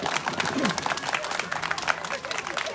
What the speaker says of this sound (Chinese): 还是掌声不够热烈呢？